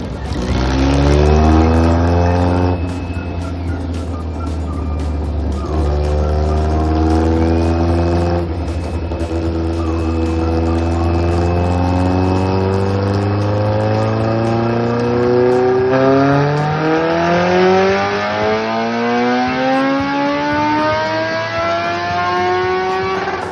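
A Suzuki Hayabusa motorcycle engine screams loud and close, its pitch climbing steadily through long unbroken runs of acceleration toward top speed, with brief dips between pulls.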